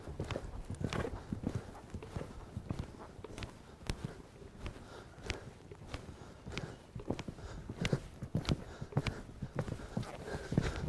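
Steady clip-clop of horse hooves striking firm ground in a quick, regular rhythm, fairly close, with no talking.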